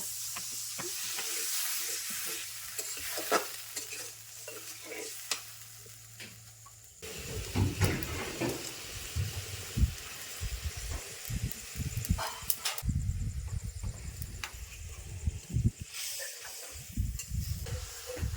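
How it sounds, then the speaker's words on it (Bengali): Ground ginger, garlic and cumin paste fry and are stirred in a pan for a pangas fish curry, a soft sizzle at first that turns into louder, rougher scraping and bubbling. "মশলাটা কষিয়েছি আর মাছটি দিয়ে দেবো।"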